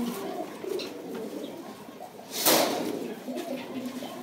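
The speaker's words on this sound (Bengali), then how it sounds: "এটা হলো পুরুষ কবুতরটা" A male pigeon coos softly in the background of a pigeon-selling setting. A brief rustle or flutter briefly rises over the low, steady coos.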